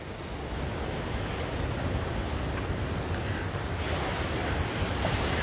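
Steady ocean surf rolls and washes along natural rock at the Kaka'ako waterfront in Honolulu, Oahu, a continuous broadband roar with light wind buffeting the microphone and no talking throughout.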